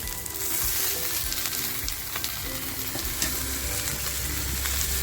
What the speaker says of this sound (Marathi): मस्त केळीच्या पानावर ते फ्राय करून घ्यायचं आहे